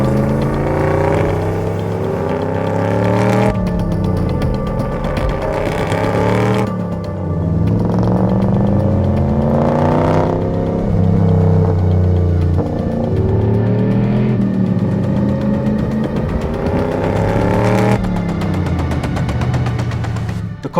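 A BMW E30 with a supercharged Toyota 1UZ V8 drives hard on a track, the loud engine note rising and falling through repeated gear changes and hard accelerations with supercharger whine, close and continuous.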